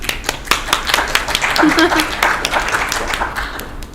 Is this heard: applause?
yes